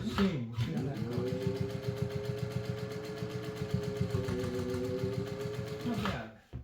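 A Singer 1200 sewing machine stitching over a fabric seam, running in a steady fast mechanical chatter for about six seconds before stopping, close and alone without talk.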